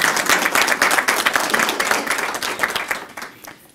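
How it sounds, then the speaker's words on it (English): An audience at a county government announcement breaks into applause for the police department, a loud burst of many hands that gradually tapers and thins out toward the end. "That deserves a round of applause."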